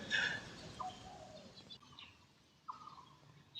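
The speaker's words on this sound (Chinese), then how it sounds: "我听了鸟叫声" Birds sing in a park in springtime: a few quiet, scattered chirps and short whistled notes drift in from a distance over soft background ambience.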